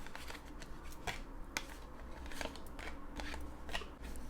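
Crisp papery flicks and snaps of playing cards being handled and shuffled through, irregular and close, quiet with no talking.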